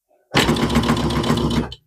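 Sewing machine stitching a quilt binding, a close, loud, steady mechanical whir that starts abruptly, runs for about a second and a half, then stops cleanly.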